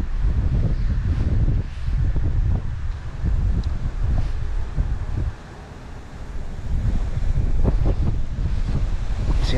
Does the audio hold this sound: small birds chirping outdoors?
no